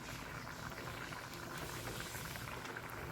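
Egg curry gravy bubbling in a pan, a steady close simmer with soft popping and hiss that continues evenly without pause.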